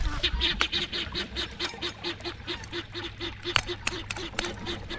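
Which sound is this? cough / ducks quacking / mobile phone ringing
ducks quacking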